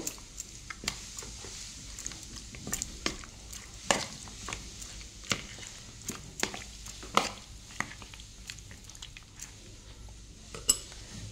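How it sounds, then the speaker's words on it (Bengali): A spoon clinks and scrapes repeatedly against a mixing bowl as chicken is stirred with sour yogurt, an irregular series of light knocks and rubs at close range with no talking. "তারপরে আমি টক দইটা দিয়ে দিচ্ছি পুরোটা, একটু মিক্স করে নেব"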